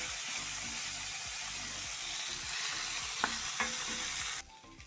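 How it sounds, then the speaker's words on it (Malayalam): Okra and green chillies sauté in a pan with a dense, steady sizzle, broken by a couple of faint utensil taps. The sound cuts off abruptly near the end. "ഇതിൽ പച്ചമുളക് കൂടെ ചേർത്താണ് കുറിച്ച് വെച്ചിട്ടുള്ളത്. ഇത് നമുക്ക് വഴറ്റിയെടുക്കാം"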